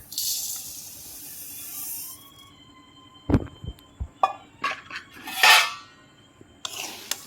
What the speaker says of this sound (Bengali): এবার দিয়ে দিচ্ছি চিনিটা।